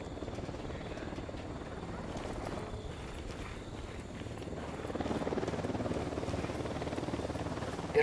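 Unidad helicopter from the video game Ghost Recon Wildlands flying, a steady whirring rotor drone that swells slightly louder toward the end, heard alone without talk.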